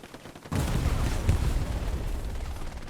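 A satchel charge blows up in the Hell Let Loose war game, a sudden heavy blast followed by sustained rumbling and crackling gunfire, loud and dense with no talking.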